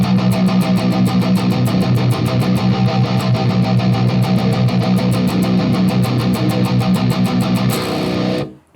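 Distorted thrash metal electric guitar played with steady, fast down picking, the pick slanted downward, giving a tight, chugging rhythm of even palm-muted attacks that runs loud and continuous for about eight seconds before stopping abruptly.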